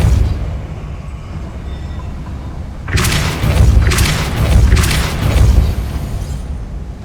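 Depulso force spell cast in Hogwarts Legacy on PS5: after a quiet stretch, a sudden loud whooshing boom breaks out, followed by two more rumbling surges that fade back to low ambience.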